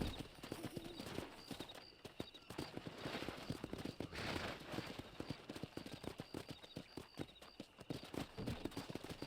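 Horses gallop in the Western video game Red Dead Redemption, a rapid, rhythmic clatter of hooves close by that keeps up throughout, with scattered sharp knocks mixed in.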